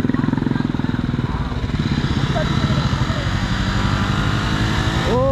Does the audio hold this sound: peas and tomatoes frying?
no